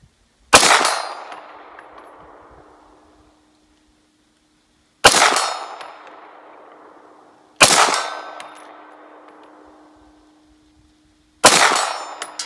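Four pistol shots from a Springfield XD-M Elite OSP each ring off a steel target in a sharp metallic clang that decays slowly, spaced a few seconds apart, clear and alone.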